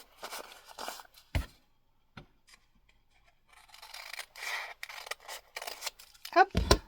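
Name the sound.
scissors cutting a paper tea filter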